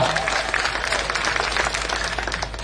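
Audience at a public political rally in Vadvani breaks into dense, sustained applause, many hands clapping at once in a steady roar that carries on throughout.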